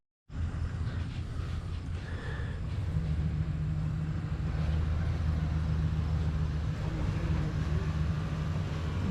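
A truck hauling tractors drives across a yard, a low engine rumble that starts abruptly and then holds steady, its drone rising slightly partway through, heard from inside the cab with no speech.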